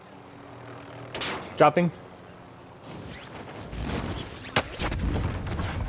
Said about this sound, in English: Being shot from control.